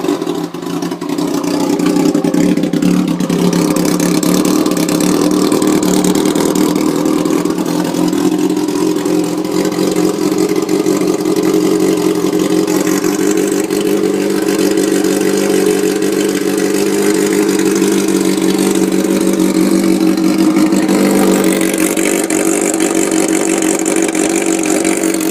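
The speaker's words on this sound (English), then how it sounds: "So, 2006 Ninja ZX6R, and there's the exhaust." A 2006 Kawasaki Ninja ZX6R engine runs loud and close at a steady, throaty idle, holding almost constant with only slight swells in pitch.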